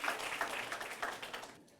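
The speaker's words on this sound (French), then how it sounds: "Applaudissons très très fort pour lui." An audience applauds a high-school competitor at a student quiz contest, with sustained, somewhat distant clapping from many hands that thins out toward the end.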